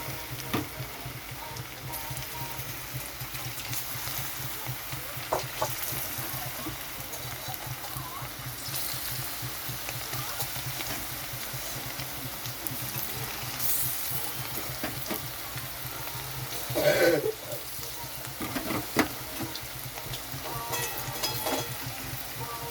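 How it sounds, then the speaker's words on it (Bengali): A steady, low hiss of chicken pieces frying in hot oil for pakoras continues throughout, with occasional louder crackles and brief clinks of a utensil against a pan. "তেলটা গরম হয়ে গেছে তো আমি এখন চিকেনগুলো ছেড়ে দিচ্ছি ভাজার জন্য"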